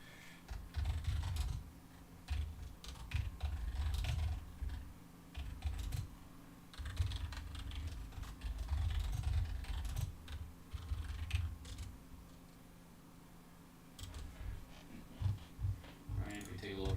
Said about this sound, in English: I can start typing them out for you if you'd like